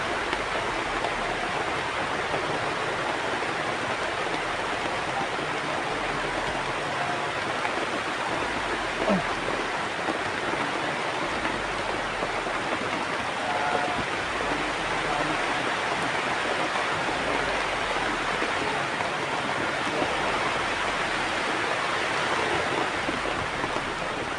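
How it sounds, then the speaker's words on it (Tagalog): Heavy rain pours down steadily, a constant broadband hiss like a rushing downpour that stays even and loud throughout, with faint scattered ticks and no voices. "Maulan talaga oh."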